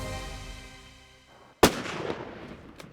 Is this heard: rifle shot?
yes